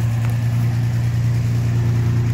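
A one-owner 1972 Capri V6 idles smoothly up close, with a steady low engine hum and an even rhythm and no revving.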